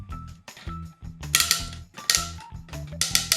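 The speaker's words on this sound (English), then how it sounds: "those are some really springy and loud arm ratchets" Repeated loud, springy ratcheting clicks in bursts from the arm joints of a Hello Carbot Sky SWAT X toy robot, plastic mechanism worked back and forth at close range.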